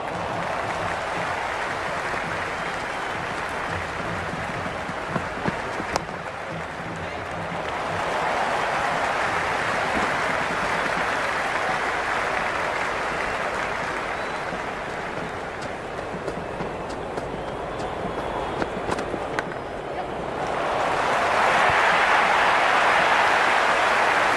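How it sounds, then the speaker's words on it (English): A crowd at a T20 cricket match between Sri Lanka and Ireland applauds and cheers in a broad, continuous roar that dips briefly midway, then swells louder near the end. "It's the most enthusiastic crowd you could ever see right now."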